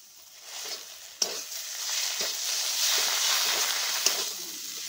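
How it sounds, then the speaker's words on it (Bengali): Mustard and poppy seed paste stirred into frying coconut paste in a pan, with a steady bright sizzle and occasional scraping clicks of the spoon against the pan, close up and continuous. "সর্ষে আর পোস্ত দিয়ে ভালো করে নেড়ে চেড়ে নিলাম।"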